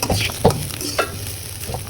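Rice dry-roasts in a pan, stirred with a few scraping spoon strokes over a low, steady sizzle close by; nobody speaks.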